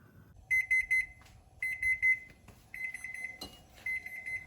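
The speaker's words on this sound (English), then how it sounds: "So after the timer goes off," A kitchen timer goes off while cookies bake, beeping in four separate bursts of rapid electronic chirps, near and clear with a faint background hum between bursts.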